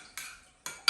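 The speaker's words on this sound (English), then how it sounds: "a spoon, mix all that in" Pizza ingredients mixed in a bowl with a metal spoon, giving three short separate clinks and scrapes against the dish, close and clear with no talking.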